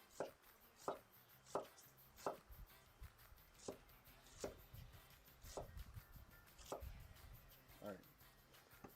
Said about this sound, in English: Then I'm going to start chopping these.